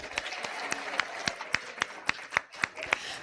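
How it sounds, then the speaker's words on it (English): Rhythmic, evenly spaced clapping at a scientific session as winners come forward, sharp in-unison claps about four per second over a softer background of scattered applause. "A round of applause for them as they come forward."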